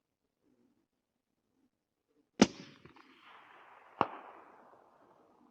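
A suppressed Remington 700 .223 rifle fires at a steel plate 400 yards away, heard as one sharp report with a fading tail, then a second crack about a second and a half later, outdoors and otherwise quiet.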